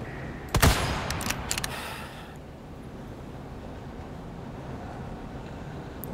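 Gunfire in Resident Evil 4, a quick cluster of sharp loud shots near the start that then fades into a quiet low background hum.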